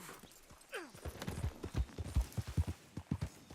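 Horse hooves clip-clop in Red Dead Redemption, a steady run of distinct hoof strikes at a walking pace, fairly faint, with a brief whinny near the start.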